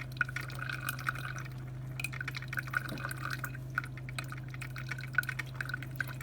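A small Black+Decker CM618 single-serve coffeemaker brews with a steady low hum, while liquid drips and gurgles into a cup in quick, irregular spurts.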